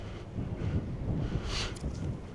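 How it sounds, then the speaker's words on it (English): Wind gusts buffet a microphone outdoors at a USSSA slowpitch softball field, a steady low rumble with a brief louder gust in the middle, no talk over it. "Wind's not messing with the audio too bad."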